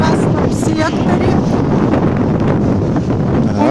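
Strong, steady wind buffets the microphone on a wild, unfenced stretch of winter coast at Anapa, a dense continuous roar with no break throughout.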